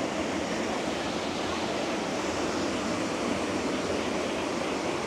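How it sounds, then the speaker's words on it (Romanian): A waterfall in Costa Rica rushes in a loud, continuous broadband roar, steady and unbroken from start to finish with no other sounds rising above it. "Da, e superbă cascada."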